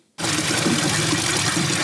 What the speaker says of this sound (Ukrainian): Мешканець Марківки Ігор набирає додому води із джерела.